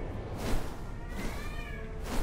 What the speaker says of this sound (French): Mais le chat, pourquoi tu miaules?